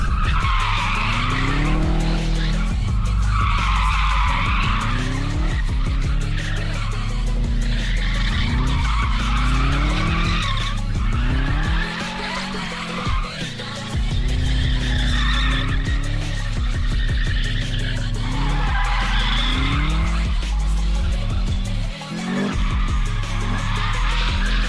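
A car spins its wheels in a loud, sustained tire burnout, with continuous skidding squeal and a revving engine rising and falling in repeated surges, close and dominant throughout.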